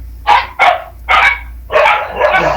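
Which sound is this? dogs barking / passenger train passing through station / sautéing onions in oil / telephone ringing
dogs barking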